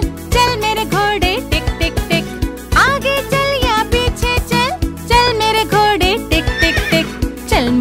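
Neighing and clip-clopping horse sounds play in a Hindi children's rhyme, loud, close and repeated in a bouncy rhythm over bright, busy backing music.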